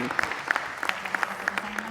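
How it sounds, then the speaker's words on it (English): An audience at a Nishikigoi summit claps for the speakers, scattered hand claps at moderate distance while a voice talks over them and a low hum runs underneath. "please give them a big round of applause to all the speakers in the part 2"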